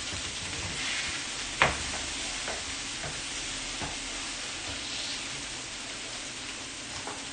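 Burgers frying in a pan on a stove give off a steady, close sizzle and crackle, with a single sharp knock near the start and a few faint clicks after it. Nobody talks over the frying.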